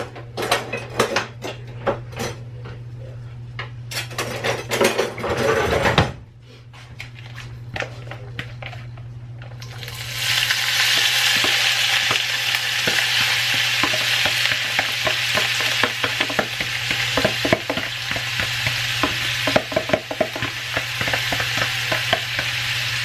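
Chopped vegetables go into a pan: first scattered clinks and clatter of cookware over a steady hum, then a sudden loud sizzle that keeps frying steadily, with stirring scrapes and taps on top and no talking.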